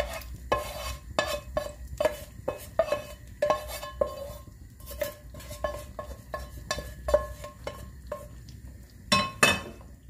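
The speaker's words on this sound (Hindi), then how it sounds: "अब इसमें मैं ये तड़का शामिल कर दूंगी" A hot tempering sizzles as it is poured into cooked masoor dal, followed by repeated metallic stirring and clinks of a spoon against cookware, close and fairly quiet.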